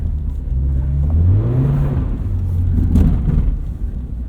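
A lifted, safari-style 2022 Subaru BRZ driving off-road: a continuous close engine drone with low rumble whose pitch rises and falls as the throttle changes, with no voices.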